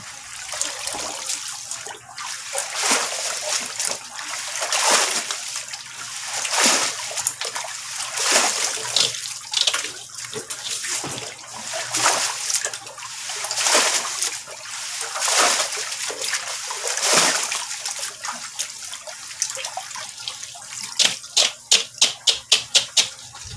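Water is poured and splashed into a DIY pond filter while filter brushes are washed, giving irregular bursts of splashing and trickling, moderately loud and close, ending in a quick series of sharp splashes.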